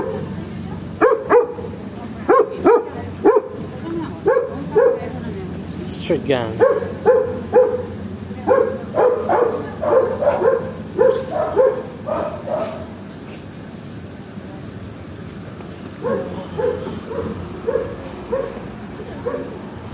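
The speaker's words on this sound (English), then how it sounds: "I don't know, the dogs, I don't know who they're barking" Street dogs barking in repeated bursts of yelps and bow-wows, some close and loud, others trailing off, with someone talking casually over and between the barks outdoors.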